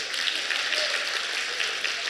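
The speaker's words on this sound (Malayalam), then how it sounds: "ഒരു കയ്യടിയും കൂടി ആയിക്കോട്ടെ." Round of applause from the audience at a home care company's annual day event, steady crowd clapping sustained evenly through the moment.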